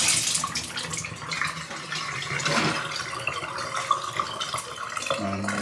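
Water runs steadily from a Delta shower faucet, a continuous splashing hiss that swells slightly and then cuts off abruptly near the end.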